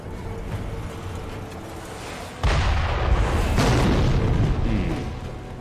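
Cannon shot fired by an enemy in the video game Sekiro: Shadows Die Twice, a sudden loud boom after quiet ambience, followed by a few seconds of sustained rumbling roar that slowly fades.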